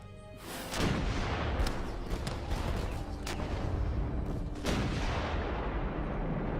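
A reenacted American Revolution-era artillery cannon fires a heavy, booming shot that rolls into a long rumbling echo, followed by a second, fainter report a few seconds later.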